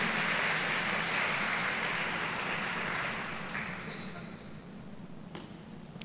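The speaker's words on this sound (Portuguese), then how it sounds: "Vamos dar outra salva de palmas para Jesus" Church congregation applauding together, a dense steady wash of clapping that stays loud at first, then slowly thins and fades over the last few seconds.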